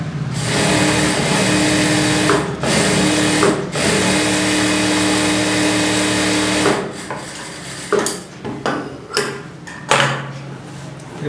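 A tailor's sewing machine stitches along the edge of a blouse, a loud close steady mechanical whir that runs continuously, pauses briefly twice, then breaks into short clattering bursts near the end.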